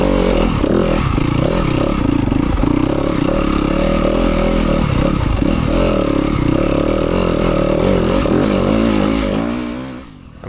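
A 2025 Yamaha YZ250FX dirt bike engine roars loud and close while climbing an off-road hill, the note wavering with throttle and clattering over rough ground before easing off at the very end.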